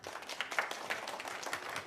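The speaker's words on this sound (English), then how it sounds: "Thank you for the applause." Brief applause from a film industry session audience at Cannes, a soft, fairly distant patter of clapping for a couple of seconds.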